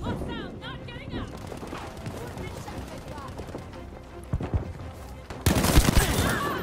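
Gunfire from Battlefield V during a Conquest match at Al Marj Encampment, with scattered shots and bursts under game voices, ending in a louder, denser volley.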